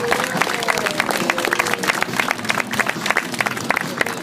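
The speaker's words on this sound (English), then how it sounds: "How about a big round of applause for Tom?" An audience at a Maine county fair animal show claps in a steady, dense patter of applause that holds for several seconds, with a faint voice or two mixed into the crowd.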